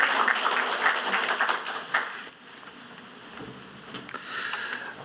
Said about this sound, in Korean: 이 모든 일을 이루신 하나님께 다시 한번 큰 박수로 영광 돌리시겠습니다